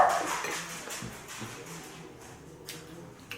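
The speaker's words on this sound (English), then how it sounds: "Those are our dogs." Household dogs react to someone at the door with brief whimpers and a few short barks, faint and somewhat distant in a quiet room with no talk.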